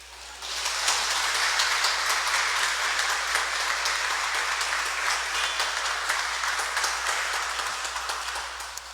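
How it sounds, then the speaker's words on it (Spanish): A church congregation at Mass applauds steadily, a dense, even wash of clapping that swells in, holds for several seconds and slowly tapers, with no voices over it. "Ahí no le damos el aplauso a Nelcy primero."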